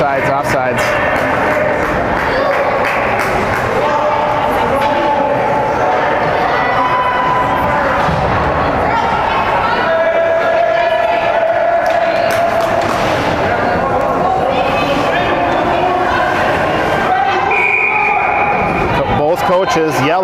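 Spectators cheer and shout at a youth 8U girls' ice hockey game, MN Steel against Tommy Chicago, while coaches yell instructions from the bench; the loud, continuous rink din runs the whole time beneath a voice talking over it.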